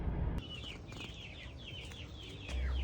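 Chickens and a rooster in a backyard farm cluck and call in a quick, repeated series of close squawks over a low rumbling background, with no talking.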